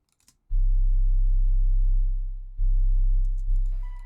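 A distorted sine-wave 808 bass plays loud, deep sustained notes. One long note fades out, then a second note starts and changes pitch partway through, and a few faint clicks come before the first note.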